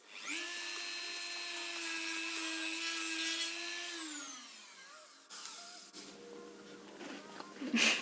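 A Dremel rotary tool spins at a high steady whine for about four seconds, then winds down. Brief cutting and scraping noises follow close by.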